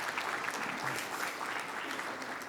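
Applause from the audience at the Gandhi Peace Awards 2023 ceremony in Winnipeg, a steady, moderately quiet wash of clapping that continues evenly throughout without a voice on top.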